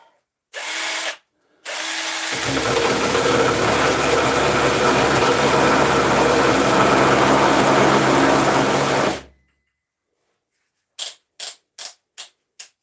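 A cordless drill fitted with a mini chainsaw attachment whirs up sharply, runs loud and steady for about seven seconds, then cuts off, followed by four short bursts near the end.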